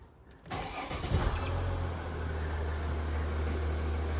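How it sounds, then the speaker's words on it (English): A 2012 Mercedes S350d (W221) diesel engine cranks briefly and catches, then settles into a steady, close idle rumble, with a faint jingle of keys at the start. "Now I'm just going to start the car quickly, make sure there isn't any obvious nonsense or anything that I may have forgotten."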